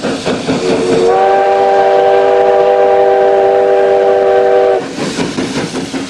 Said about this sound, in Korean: 섬동복을 실은 군수열차는 직통열차로 편성됐습니다.